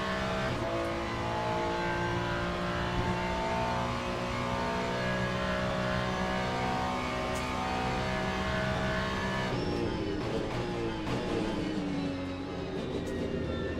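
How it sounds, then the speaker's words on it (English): Several LMGT3 race cars, including a Ferrari, roar and rev in Le Mans Ultimate, a steady loud engine drone with shifting pitch and a sharper passing surge late on, with no talk over it. "it is not easy to get car sounds right"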